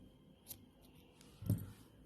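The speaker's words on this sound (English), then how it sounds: "and cut the yarn" Scissors cut crochet yarn after finishing a baby sandal, giving two faint, brief snips about a second apart up close in a quiet room.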